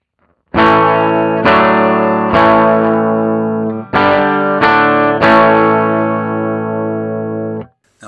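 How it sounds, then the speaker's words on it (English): Electric guitar through a vintage Boss LM-2 limiter set to its minimum: six loud, sustained chords struck close up, each ringing out evenly before the next, the last fading after several seconds; no voices. "Here is our guitar sound."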